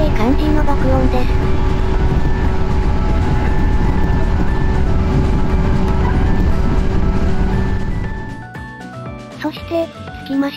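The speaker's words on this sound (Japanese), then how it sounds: "JR 西日本115系電車。" A JR West 115 series electric train, an ex-JNR unit, roars past loudly for about eight seconds with a steady motor whine, then the noise drops away quickly.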